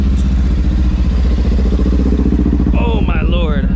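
A motorcycle idles and rumbles steadily up close as it squeezes between parked cars at a Houston underground car meet, the deep engine throb continuous and loud, with a person's voice briefly audible near the end.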